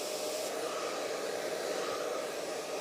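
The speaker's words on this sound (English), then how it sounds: "I've got the dryer on high heat because I want as much heat as possible hitting the brush." A hair dryer set to high heat blows a steady, loud, unbroken roar while hair is styled with a boar-bristle thermal round brush, with no talking.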